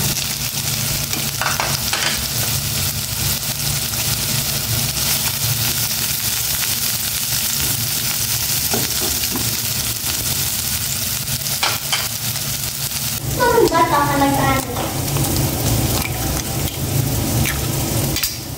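Sliced bitter gourd (ampalaya) sizzles steadily in a hot pan for a long stretch, with intermittent stirring and scraping that grows busier and louder toward the end, close and without talk.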